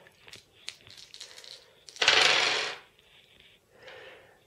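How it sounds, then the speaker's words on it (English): Four dice rolled onto a tabletop during a Star Trek Attack Wing game, heard as a short burst of clattering and tumbling after some light rattling, then settling with a few quieter knocks. "So we roll 4 dice."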